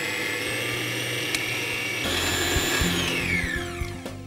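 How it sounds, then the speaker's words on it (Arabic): An electric mixer whisks the liquid ingredients for mixed biscuits in a steady, loud, continuous whine, its pitch shifting midway as the speed changes, close up and alone. "نخفق كل المكونات السائله مع بعضها"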